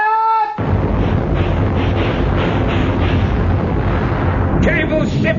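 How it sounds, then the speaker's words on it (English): A warship's broadside of cannons fires in a sailing-era naval battle, a sustained roaring barrage of heavy blasts that fills the clip loud and close after a brief tonal call at the start, with wind and shouting blended in. "Tell Mr. Hornblower to fire his guns when ready, Mr. Bush"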